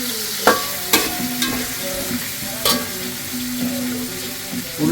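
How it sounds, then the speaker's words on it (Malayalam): Onions fry in an oiled pan for a biryani semiya dish, a steady close sizzle broken by several sharp scraping stirs of a spatula, with no speech. "ഉള്ളി ഇട്ട് കൊടുത്തിട്ടുണ്ട്."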